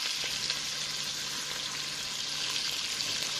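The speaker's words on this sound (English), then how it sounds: "I am going to add my garlic now" Garlic sizzles in a pan over softened onions and celery, a steady close hiss of frying that holds evenly throughout with no talking.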